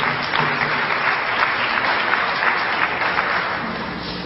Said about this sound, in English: Don't wait for me to ask you to applaud them.